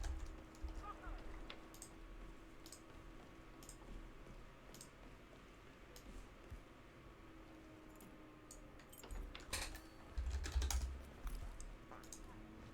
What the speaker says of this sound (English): I wonder if you can hear me angry typing.